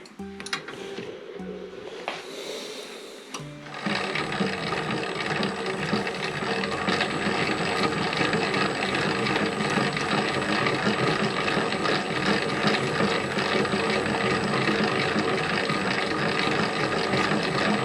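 A dough machine starts up mixing high-hydration 80% pizza dough with flour and yeast, giving a steady mechanical whirring and rattling drone that runs loud and unbroken after a brief quieter start.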